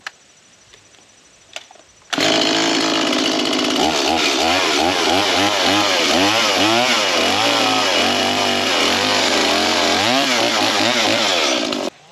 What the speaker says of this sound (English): We're going to be using our Stihl MS170 today and trying a little bit of gas power.